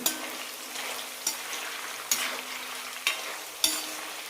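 Jackfruit chips deep-frying in hot oil, turning golden brown, give a steady close sizzle broken by about five sharp clatters of a stirring spoon at irregular intervals, with no talking.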